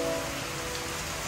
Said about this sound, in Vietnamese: Trận mưa vào lúc 10 giờ đêm.